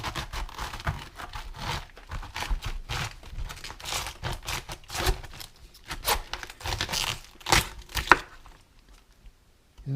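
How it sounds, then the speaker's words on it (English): A knife cuts a cabbage head in half for sauerkraut, a run of crunchy, crackling cuts and tearing crunches that come in quick bursts close by, then stop and leave near silence at the end. "the first thing I do is cut it in half."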